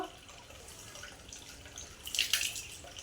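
Hands washed in a bucket of water at home: a quiet, mostly still stretch broken by one brief, faint splash and slosh of water near the end.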